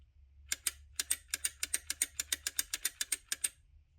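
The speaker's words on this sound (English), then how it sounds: "Another nickel is thrown in, and that moves this wheel further away." A nickel dropped into a vintage coin-operated machine advances its coin-counting wheel, giving a quick, even run of about sixteen crisp mechanical ratchet clicks, close and alone.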